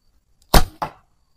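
A sharp whoosh and thwack as an arrow is released from a bow and strikes a target, followed quickly by a second thud, then silence.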